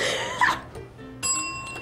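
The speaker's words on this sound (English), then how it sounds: "Your time will begin as soon as I hit this bell." A game-show bell struck once to start a four-minute eating timer on a stunt competition show, a bright ringing tone with a lingering overtone that rises after a brief laugh and some indistinct voices.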